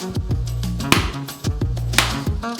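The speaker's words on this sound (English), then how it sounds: "We split it with a hammer." A whole real coconut split open with a hammer, two sharp, solid knocks standing out over steady background music.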